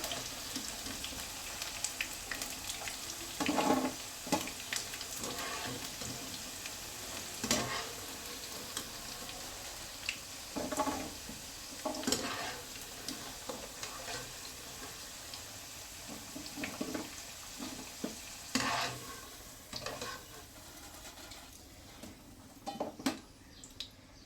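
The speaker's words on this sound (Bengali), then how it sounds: "এই দেখেন আলুগুলো ভাজা হয়ে গেছে" Sliced potatoes fry in hot oil, a quiet soft sizzle running throughout, punctuated by occasional scraping stirs and clinks of a utensil against the pan.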